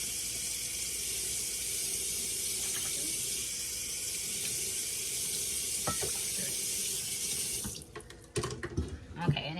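Water runs from a kitchen tap into a measuring cup as a steady, loud rush that stops near the end, followed by a few clinks and handling knocks nearby.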